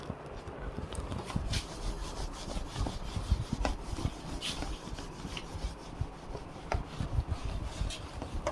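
A board eraser or duster rubs chalk writing off a classroom board during a history lecture, a steady scraping swish with repeated strokes, close and moderately loud, with no talk.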